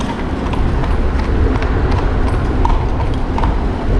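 Carriage horse hooves clip-clop steadily on pavement amid loud New York City street bustle and traffic noise, with voices murmuring in the background.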